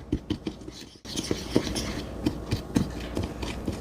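A spoon stirs a salt, pepper and garlic powder seasoning mix in a bowl, producing close scraping and light clinks in an uneven rhythm after a brief pause.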